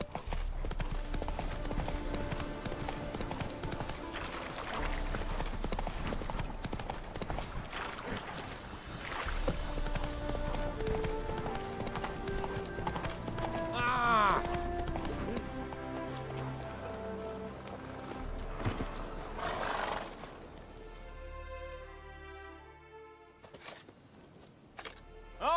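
Hoofbeats of Roach the horse galloping in The Witcher 3, a steady clip-clop running under music and game ambience, then cutting out into quieter scattered sounds near the end.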